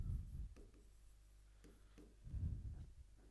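Marker or chalk writing on a board during a lesson, with soft rubbing strokes in short bursts, moderately close and fairly quiet, with no talking.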